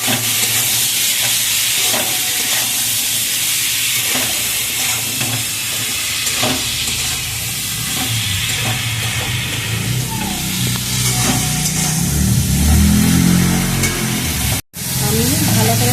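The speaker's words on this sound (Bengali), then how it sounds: "এবার আমি এটাকে ভালো করে কষিয়ে নেব" Dal with sugar, ginger paste, chilli and turmeric is sautéed in a pan, a loud steady hiss and sizzle running throughout with faint stirring scrapes and a brief dropout near the end.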